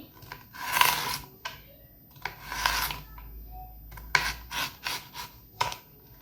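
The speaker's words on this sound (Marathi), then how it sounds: "ही काकडी कट करून घ्यायची" A cucumber being cut with a knife for a tomato, cucumber and beetroot salad, producing close, crisp scraping slices in short bursts with pauses between strokes and no speech.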